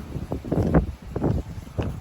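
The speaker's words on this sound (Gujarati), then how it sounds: "હા શું પવન છે" Gusty wind buffets the microphone in uneven bursts, rising and falling over a couple of seconds.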